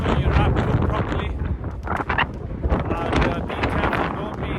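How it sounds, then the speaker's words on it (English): Strong wind at a coastal lighthouse on the North Coast 500 in Scotland buffets the microphone in a loud, continuous, gusting roar, with no one speaking. "It's extremely windy."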